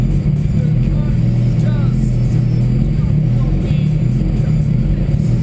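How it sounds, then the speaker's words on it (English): A turbocharged Honda Civic engine idles after a cold start with a steady, continuous low rumble, loud and close, holding an even pitch throughout. "she's idling from a start cold"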